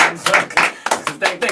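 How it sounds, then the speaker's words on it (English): A quick run of sharp, uneven hand claps, loud and close, a handful of people clapping on cue in a half-hearted way, mixed with a voice speaking. "Give me the fake claps."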